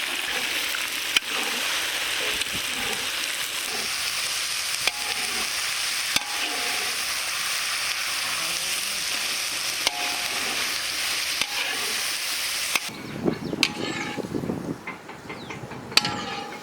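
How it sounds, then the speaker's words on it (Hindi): Chicken fries in hot oil for chicken noodles with a loud, steady close-up sizzle and a few sharp clicks, shifting near the end to rougher stirring and clattering. "ऑयल गर्म होते ही हम लोग इसमें चिकन ऐड करेंगे।"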